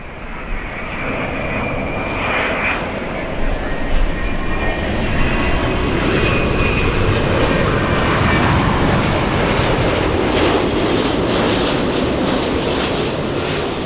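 An Italian airline jet at Los Angeles airport gives a loud, steady engine roar that fills the whole stretch without a break and carries no voices.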